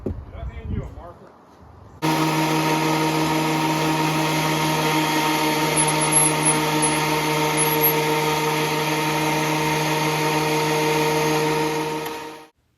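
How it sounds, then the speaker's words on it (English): A Ridgid wood planer shaves boards during a coffee table build, starting after a brief voice and running as a loud, steady mechanical whine with strong tones for about ten seconds before winding down. "You put the wood through and it shaves it off, and it planes the wood. It's from Rigid."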